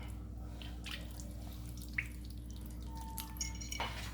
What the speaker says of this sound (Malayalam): ഈ വെള്ളം ഇതുപോലെ ഒന്ന് തെളിച്ച് കൊടുക്കാം.